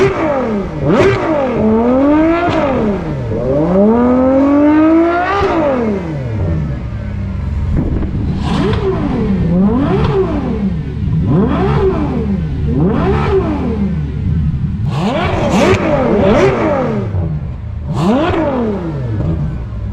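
A Ferrari 812 GTS fitted with a QuickSilver Special Projects exhaust revs repeatedly, each loud, close blip climbing sharply and falling back, in a series of rapid rev bursts with no one talking.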